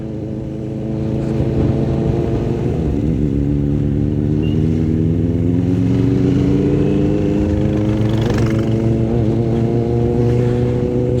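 A Honda Transalp 750 motorcycle rides along a country road, its engine humming loud and close with rising and falling revs as the rider shifts and accelerates, with wind noise and no talking.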